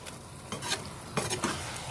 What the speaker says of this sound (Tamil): இந்த உருளைக்கிழங்குலாம் மசாலாவோட ஒன்று சேர்ற மாதிரி நல்லா கிண்டி விடுங்க